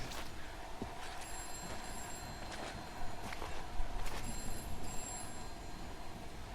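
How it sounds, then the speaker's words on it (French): Telephone ringing in the horror video game I'm Counting to 6, a few bursts of bell rings spaced out over a dim, ambient background with some footstep-like thumps. "C'est pas celui-là, téléphone qui sonne?"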